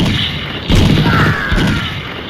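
A bomb explodes in a video game as a sudden heavy boom, followed by a second, smaller thud about a second later, both close and loud over faint background game sound.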